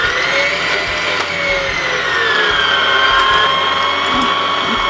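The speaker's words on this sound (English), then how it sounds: "And I now beat the egg whites, and then I'll add the sugar gradually." Egg whites whipped for meringue with an electric mixer, a loud steady whirring drone with a slowly shifting whine that runs continuously throughout, close up and alone.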